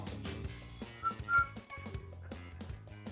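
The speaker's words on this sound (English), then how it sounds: "Papu the Sailor Man whistle." Someone whistles a short, bouncy Popeye-style sailor tune over the quiet background music of the racing game Crash Team Racing Nitro-Fueled, the notes rising and falling in quick bursts.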